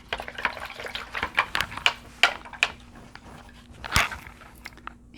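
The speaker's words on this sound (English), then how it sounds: "Rinsing out my brush." A paintbrush rinsed in a water cup, quick clinking taps and small splashy swishes repeated in a brisk irregular rhythm, close and fairly loud, without talking.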